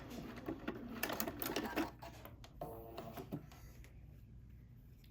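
A sewing machine stitches around a small hexagon pincushion in short uneven bursts of rapid clatter, close but fairly soft, trailing off into quiet handling noise.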